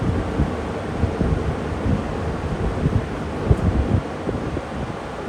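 Several Lakewood box fans run together in a room, giving a steady, loud, broad rushing of air that stays even throughout with no pauses and no voices.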